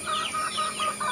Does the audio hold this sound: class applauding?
no